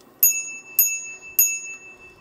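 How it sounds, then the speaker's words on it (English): A small bicycle bell on a Himiway A7 Pro e-bike rings three times, clear and close, each bright ding spaced about half a second apart and ringing out briefly in an otherwise quiet setting. "Get a nice little bell as well."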